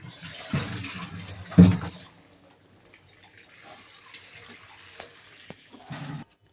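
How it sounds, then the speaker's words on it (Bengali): Water poured over hands in a home kitchen while cooking, a loud splashing burst then a brief second splash with quieter running water between, no voices. "আমার হাতে একটু পানি দিয়ে দেন।"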